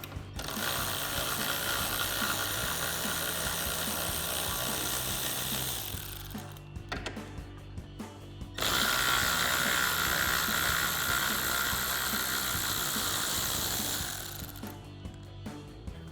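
Ratchet wrench with a 10mm socket backing out two grille bolts on a 2021-2023 Ford F-150, steady close mechanical clicking that pauses briefly between bolts.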